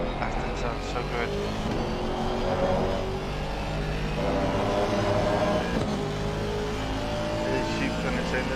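An Aston Martin GT race car in a PC racing game at the Misano circuit, its engine roaring continuously at high revs with shifting pitch, while a commentator talks over it throughout.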